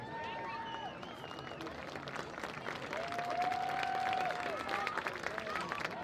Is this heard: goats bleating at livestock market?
no